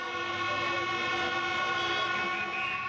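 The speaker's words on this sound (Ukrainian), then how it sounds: "під гудіння клаксонів жителі Тбілісі вирушають до будівлі МВС" Car horns blare continuously at a street protest in Tbilisi, a sustained, layered honking that holds steady and loud with no break or talk.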